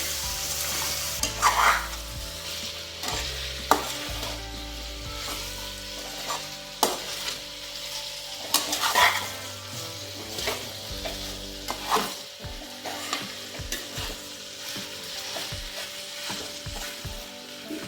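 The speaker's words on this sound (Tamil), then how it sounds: "இந்த மசாலைங்க கூட இந்த பீஃப் நல்லா மிக்ஸ் ஆகிற மாதிரி நல்லா பெரட்டிக்கிட்டே இருந்தோம்" Beef is stirred with masala as it fries, the spoon scraping and clacking in repeated strokes over a close, steady sizzle from the pan.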